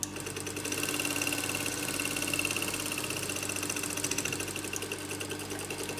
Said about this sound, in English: if you got a overlocker machine or zigzag, you can do on the edge